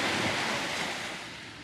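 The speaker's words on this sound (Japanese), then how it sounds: "波の音がさっきより綺麗に入ってるんじゃないかなと思います。" Ocean waves captured by the built-in microphone of a Sony ZV-E10 II set to front directivity, a steady broad wash of surf that is continuous and fairly close, slowly easing slightly toward the end, with no voices.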